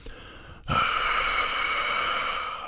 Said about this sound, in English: What you can do is use a squeezed H sound like this.